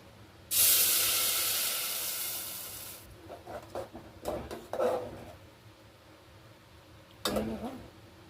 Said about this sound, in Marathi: आता तेल घालून घेऊया आपण टोप गरम झालेला आहे भरपूर